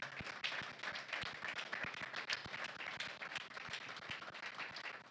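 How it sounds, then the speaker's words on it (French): Audience applause at an official conference launching the AfroCanada Television channel: steady, dense clapping from a crowd, filling the room at even loudness throughout with no voices on top. "Je pensais que vous alliez applaudir un peu plus fort que ça."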